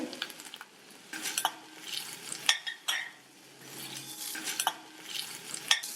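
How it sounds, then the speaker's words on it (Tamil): Onions sauté with garlic and curry leaves in a pan while a utensil stirs and scrapes against the metal, with intermittent clinks, close by and steady. "வெங்காயம் வதங்கி கண்ணாடி பதம் வந்துருச்சு."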